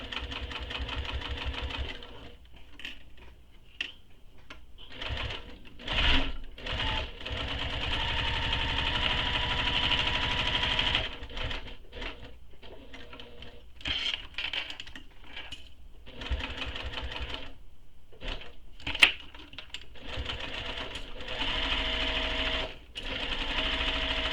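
A sewing machine top stitches a canvas-style convertible tote bag, running in long steady bursts with brief pauses between runs, close and fairly loud with no talk over it.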